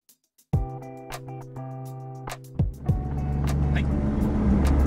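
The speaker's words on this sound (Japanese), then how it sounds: "S660 をドライブしてもう2時間近く経つんですが" A tuned Honda S660 driving, a steady engine drone heard from inside the car that rises into a broader, noisier roar toward the end.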